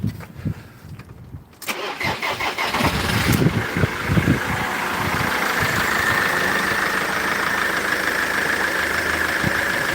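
A Thunderbird car engine with a flat battery cranks briefly, catches and settles into a steady idle, all close and clear with no voices over it.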